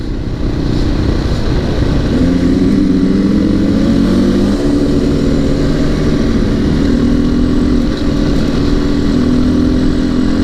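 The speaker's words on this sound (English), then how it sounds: "Quite a range of bikes here today too. There's a few two-strokes, lots of WRs of course, a few 500, KTM 500s" Dirt bike motorcycles, a mix of two-strokes and KTM 500s, idle and rev nearby on a high-country ride, a steady loud engine drone with rising tonal revs running throughout and no talk.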